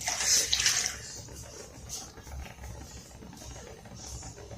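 About two tumblers of water poured onto sugar in a pan for a bread halwa syrup, a short close splashing gush in the first second that fades into quiet kitchen background noise.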